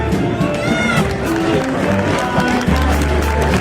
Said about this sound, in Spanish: un aplauso para ellas y enhorabuena